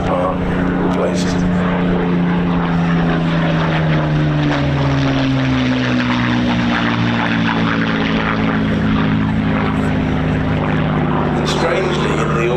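A Spitfire's piston engine drones loudly overhead at an airshow, a strong continuous tone that slowly shifts pitch as it passes, with people talking underneath.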